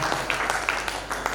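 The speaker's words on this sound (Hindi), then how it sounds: "तो एक बार जोरदार भाई लोगों के लिए तालियां" Crowd applause during a Bhagwat katha gathering in a packed hall, a dense wash of clapping with scattered louder claps over about a second and a half.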